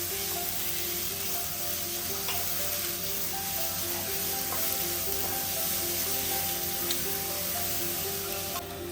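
Chopped crab curry ingredients sauté in a hot pan with curry leaves, giving an unbroken, steady sizzle with a few faint clicks, close and even in loudness throughout.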